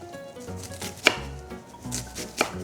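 A knife finely dices half an onion on a board for fried rice, giving quick, close chopping taps, with two sharper strikes standing out against softer cutting and no speech.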